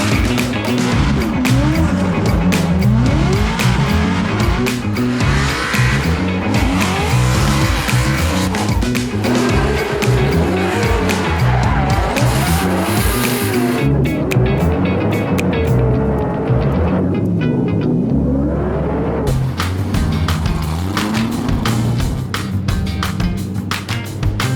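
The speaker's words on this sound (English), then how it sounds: "let's get back in the car and spin some laps" Race car lapping a dry track at a competition round in New Jersey, a loud continuous engine roar rising and falling through gear changes, with tire squeal and skidding throughout.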